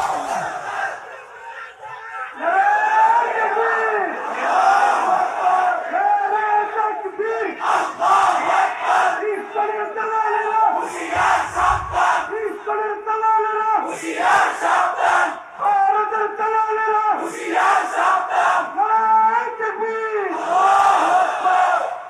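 A large crowd at a religious gathering shouts Islamic slogans such as takbir in loud call-and-response bursts, repeated unison chants rising and falling in waves close by.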